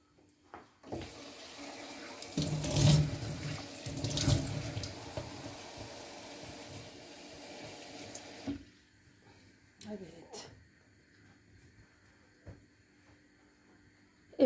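Water poured off boiled potatoes runs as a steady stream into a sink for several seconds, then stops, leaving faint clinks and handling noises.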